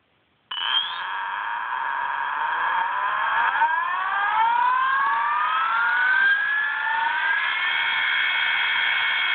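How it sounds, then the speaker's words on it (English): Mars axial flux electric motor on a test stand, driven by a Castle controller in outrunner mode, running at full speed: a loud, continuous high whine that climbs steadily in pitch as it spins up, with no talking. "We are doing this particular test to show the noise created with this motor."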